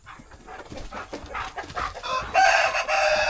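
A homestead rooster crows in several loud, ragged bursts, close by, with clucking fowl around it and no talk.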